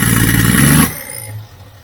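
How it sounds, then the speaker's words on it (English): A 1979 Holden Kingswood's loud engine roars briefly, then cuts out abruptly into sputtering, uneven low rumbles as it misfires, stumbles and dies down. "that should just be revving really freely, not doing that spluttering noise"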